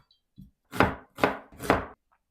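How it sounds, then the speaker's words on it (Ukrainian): Three firm knife chops through onion on a cutting board in a quick, even rhythm, preceded by a soft tap, with no talking. "Дві невеличкі цибулини наріжу кубиком"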